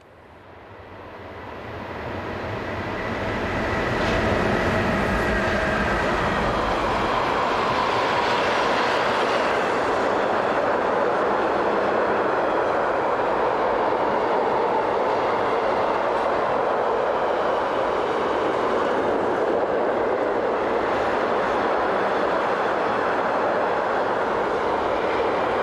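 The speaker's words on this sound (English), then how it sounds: "This pair are seen approaching from the south with an empty car train" A pair of Swiss BLS class 485 electric locomotives hauls an empty car-carrying train, swelling from a distant rumble to a loud, continuous roar of wheels and wagons that holds steady as the long train passes close by.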